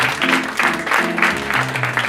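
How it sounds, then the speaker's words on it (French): Audience applause at a poetry event, rhythmic clapping in short even pulses, fairly close, with a low tonal hum underneath. "On l'applaudit encore une fois,"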